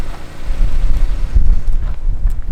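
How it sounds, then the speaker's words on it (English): Wind gusting steadily against the microphone, a low buffeting rumble throughout with no one talking. "It's cold, it's windy."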